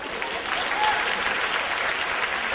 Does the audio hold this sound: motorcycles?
no